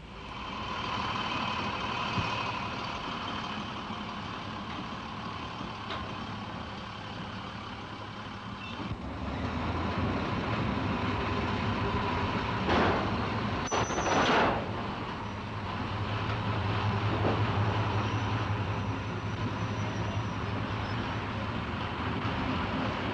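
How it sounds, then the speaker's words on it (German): Bundeswehr wheeled vehicles in the 1960s being loaded onto older stake railway wagons with removable wooden end and side walls over loading ramps: steady engine rumble with clanking and a brief sharp knock, moderately close, no talking. "Bei Verladung von Radfahrzeugen auf Rungenwagen älterer Bauart mit aushebbaren, hölzernen Stirn- und Seitenwänden sind stets Überladebrücken erforderlich."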